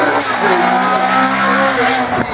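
A Citroën BX16 race car, number 81 in the F2000 class, drives a slalom course with a loud sustained engine roar and brief tire squeal near the end.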